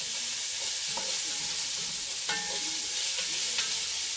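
Onions fry in a pan with a constant loud sizzle and a few light utensil taps and scrapes as they are stirred, with no voices.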